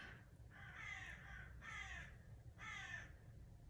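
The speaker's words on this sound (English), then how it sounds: "Do you hear the crows?" Crows caw three times in a slow, evenly spaced series, somewhat distant over a low background rumble.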